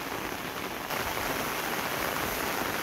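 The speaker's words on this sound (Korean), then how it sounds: "말도 못하게 많은 비가 오고 있어요." Heavy summer monsoon rain pours steadily over a rice paddy and pond, a dense unbroken hiss close by with no voices.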